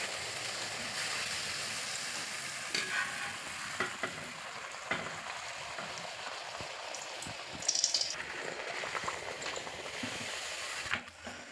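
Ariselu dough, sweetened with jaggery, frying in hot oil: a continuous bubbling sizzle with soft crackles and a few louder spatters near the end, close and without talk.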